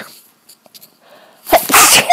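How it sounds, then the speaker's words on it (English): One loud, sharp human sneeze bursts out near the end after a quiet intake of breath, close and alone with no speech. "I have to sneeze."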